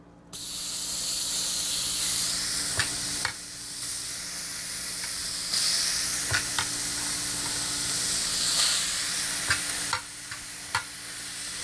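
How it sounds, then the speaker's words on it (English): Chicken pieces sizzle steadily in a hot pan, a continuous close frying hiss with occasional sharp pops and crackles, and no talking. "So we're gonna throw that on the pan real quick and get it fired up and going."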